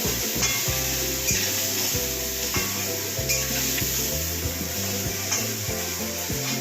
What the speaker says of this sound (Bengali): এখন বেগুনগুলো একটু ভাজা ভাজা হবে